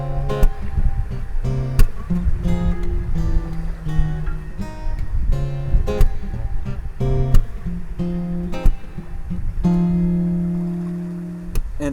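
Fingerstyle acoustic guitar strums a groovy, non-melodic chord version of a song, with steady rhythmic chord hits and sustained ringing chords, close and clear with no talking.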